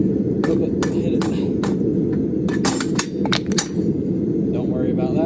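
A hammer strikes an expanded metal handle again and again as it is flipped between blows, giving sharp metallic clinks over a steady low rumbling background.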